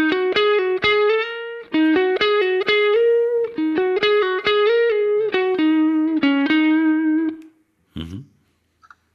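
Electric guitar through a Kemper Profiler's easy reverb effect playing a bright, repeated plucked phrase with a short reverb tail, notes ringing out over about seven seconds before a brief muted strum.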